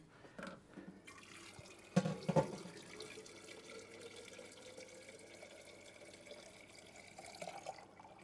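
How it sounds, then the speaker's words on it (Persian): Water is poured into a pot of dalnask soup in a home kitchen, a brief splashing burst followed by a faint, steady trickle at low volume, with no talk. "خب یک کم دیگه آب اضافه میکنیم"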